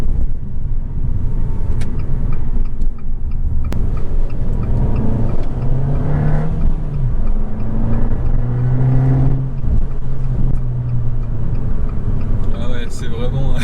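A Fiat 500 Abarth Ultime engine revs and pulls up through its range, heard from inside the cabin with the sunroof open. People talk over the steady road rumble.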